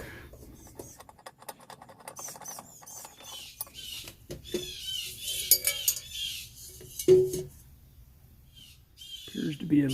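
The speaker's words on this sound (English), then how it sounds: "I'm going to mash down on the screwdriver with one hand, turn it with the other, and hope for the best" A screwdriver pressed hard and turned to back a check valve out of a Wenzel kerosene lantern held in a vise, with scattered metallic scrapes, squeaks and clicks close by under intermittent talk.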